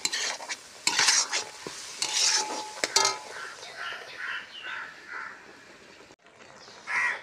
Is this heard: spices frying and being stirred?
yes